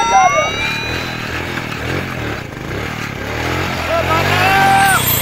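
In a Saraiki-Punjabi comedy sketch, a motorcycle revs while a police siren wails and sweeps nearby. The chase noise stays loud and constant, and excited voices are heard over it.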